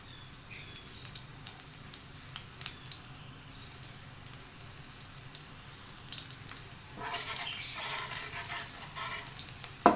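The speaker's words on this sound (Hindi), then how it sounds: "लहसुन को हमने अच्छे से फ्राई करना है।" Chopped garlic fries in a pan for masala pasta, giving a soft, steady crackling sizzle that swells louder and brighter near the end.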